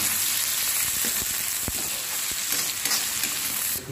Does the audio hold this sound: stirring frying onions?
yes